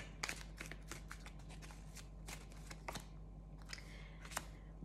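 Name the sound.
shuffling tarot cards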